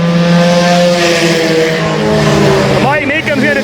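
A stock race car engine roars and climbs in pitch as it accelerates during a race, loud and close, with a crowd-like wash of noise behind it.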